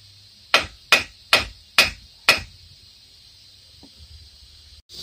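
Five sharp hammer taps on a steel axle shaft, driving it out of the front spindle of a 2005 Chevy Impala, evenly spaced over about two seconds, close and loud, followed by quiet shop ambience.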